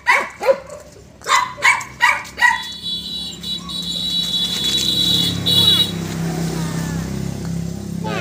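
Several loud Bac Ha dogs bark in a quick burst of about six sharp woofs, then fall quiet under a steady background drone and a faint high electronic tone.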